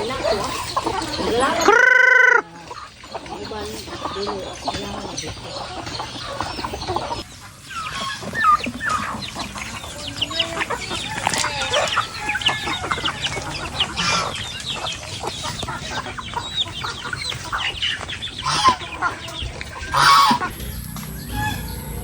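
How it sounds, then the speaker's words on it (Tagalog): Several chickens cluck and squawk continuously nearby, with a loud burst of calls early on and occasional honking cries among the flock. "Ayan, yung mga manok natin."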